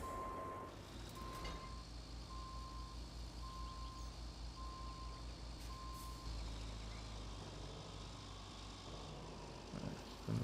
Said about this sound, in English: So I'm gonna take this truck, drive it to over here.